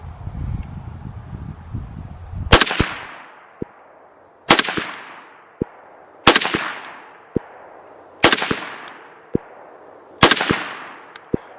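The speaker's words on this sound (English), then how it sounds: "Takes a couple more shots. 5 more shots." Rifle shots fired through a budget 4-power ACOG-style scope on a 100-yard range: five loud, sharp reports at roughly two-second intervals, each with a fading tail and a faint echo, outdoors with light wind.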